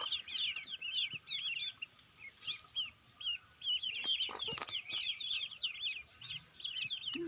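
A hen clucks repeatedly in short, bright bursts close by, with scattered rustles and bumps between calls and a brief louder knock partway through.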